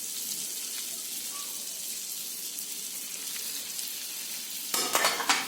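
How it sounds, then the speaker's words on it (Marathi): Butter sizzling in a pan with red chili, amchur and black pepper powders being stirred in for masala cashews: a steady, close frying hiss, with louder scraping and stirring near the end. "हे सर्व बटर मध्ये व्यवस्थित मिक्स करून घ्यायचे आहे।"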